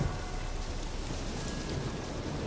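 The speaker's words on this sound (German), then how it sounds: "Der Regen passt wieder sehr gut hier." Rain falls steadily in The Witcher 3, an even, close hiss of drops on surfaces with no other sound.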